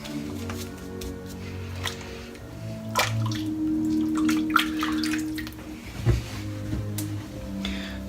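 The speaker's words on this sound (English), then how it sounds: "I am using warm water because it's been freezing here today." Warm water runs from a tap during a shave with a shavette razor, a steady splashing hiss with small drips and squishy hand sounds close by.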